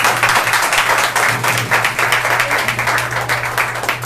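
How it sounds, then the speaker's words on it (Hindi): Church congregation clapping loudly during a Sunday service, a close, dense burst of applause held steadily throughout, with a faint low hum underneath. "परमेश्वर को जोरदार तालियां हो जाए।"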